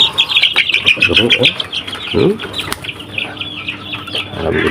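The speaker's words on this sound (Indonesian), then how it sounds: "Ini anak ayam joker cetak mandiri saya" Three-week-old Joper crossbreed chicks chirp in a rapid, high-pitched chorus, with a few nearer clucks and wing flutters, while someone speaks briefly over them.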